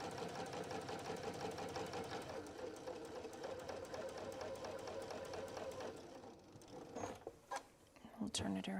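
A sewing machine stitches the opening of a tote bag with a fast, steady mechanical chatter close up, then slows and stops near the end as a voice speaks.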